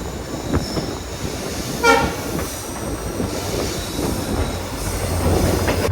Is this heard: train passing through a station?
yes